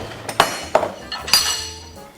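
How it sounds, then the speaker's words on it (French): A car shock absorber set into a metal vise in a workshop, giving several bright metallic clinks and knocks, four distinct taps spaced under a second apart with ringing decay, close and fairly loud. "Allez, on met l'amortisseur dans l'étau."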